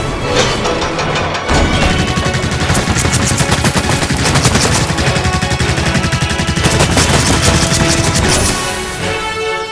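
Loud, sustained bursts of rapid gunfire in a Transformers battle, near and dense for most of the span, with crashing impacts mixed in and a brief gap early on.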